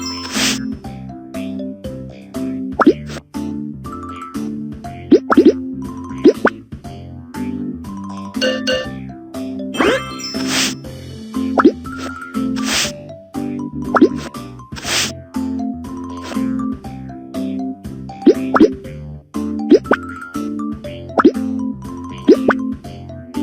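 Cartoonish plops, tinkles and dings from a Baby Panda city-building game as a brick wall goes up, repeated bright pops over a steady bouncy music bed.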